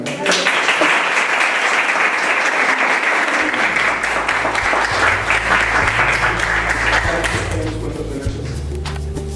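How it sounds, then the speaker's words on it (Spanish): Applause from a neuroscience symposium audience, dense and sustained for about seven seconds before thinning, with a low hum or murmur rising underneath partway through. "les pido un aplauso."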